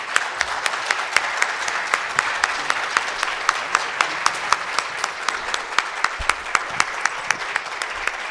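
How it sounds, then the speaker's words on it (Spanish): A lecture hall audience applauds at the close of an anthropology talk, a steady sustained round of clapping with crisp individual claps standing out throughout. "se merece un fuerte aplauso Jesús Jauregui."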